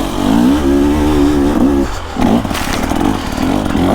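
A 2024 KTM 300 EXC two-stroke dirt bike engine revs loud and close while riding, pitch climbing and dropping through gear changes with a brief dip before pulling hard again.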